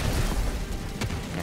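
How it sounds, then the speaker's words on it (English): Explosions in a chaotic video game battle, a steady dense roar of blasts and booms with a few sharper bursts, loud and continuous throughout. "I don't like how many explosions happening."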